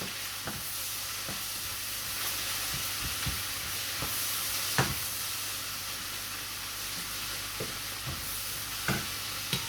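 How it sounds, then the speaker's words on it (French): Onions frying in a pan for an onion tart give a steady low sizzle, broken now and then by soft scrapes and taps as they are stirred, fairly faint and with no voices. "De temps en temps, vous remettez vos oignons, bien sûr, pour pas qu'ils brûlent au fond."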